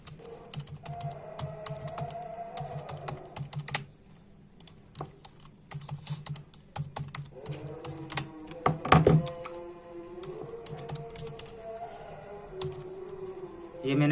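Someone types on a computer keyboard while filling in an online scholarship registration form, with fast, uneven bursts of key clicks and a few heavier thunks and brief pauses over a low background hum.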